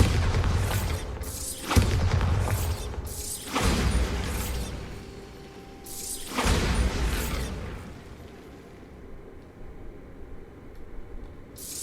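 Bombarda spell blasts in Hogwarts Legacy, three loud booming explosions spaced a couple of seconds apart, each with a rumbling crash and trailing debris, fading to quieter ambience.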